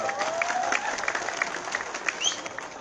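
Festival audience applauding at the state-level Hojagiri festival in Khedacherra, a fairly faint, steady patter of many clapping hands with a loose rhythm and a crowd murmur, while a voice carries on in the background.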